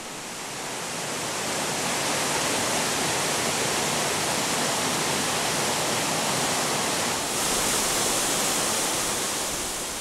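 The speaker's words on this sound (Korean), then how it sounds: "이곳에서 수직암벽을 타고 28m 높이로 떨어집니다" The Huibang waterfall on Sobaeksan mountain drops 28 m down a vertical rock cliff, making a dense, steady roar of rushing water close by. The roar is loud and unbroken throughout.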